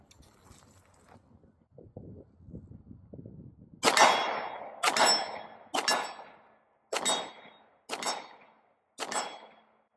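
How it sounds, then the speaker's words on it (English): Six sharp pistol shots from a Glock fitted with a red dot optic, fired at a target 30 yards away outdoors, come about a second apart after a few seconds of quiet low rumbling. "Let's see how effectively I can shoot with this optic at this distance."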